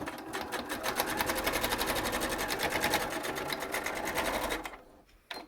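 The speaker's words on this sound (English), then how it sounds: "We fold over that edge to tuck it in before we sew off the end." A sewing machine stitches off the end of a fabric face mask, a close, fast, steady needle rattle running for several seconds before slowing and stopping, followed by a couple of faint clicks.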